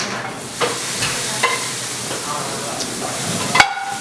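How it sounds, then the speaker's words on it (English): Small pieces of meat sizzle in a hot pan in a Korean home kitchen, with a steady broad hiss and occasional light stirring clicks from a spatula throughout. "want them to sizzle a little bit"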